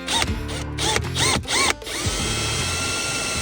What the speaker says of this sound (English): I'm probably gonna start it with a step drill here, and then I'm gonna finish it with a normal drill bit